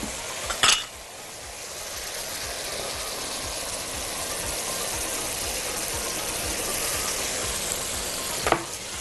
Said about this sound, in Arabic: نيجي بقى للطشه ونطش الخل